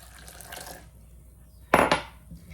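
A short splash of hot water poured into a bowl, a brief burst after quiet kitchen clatter and faint background noise.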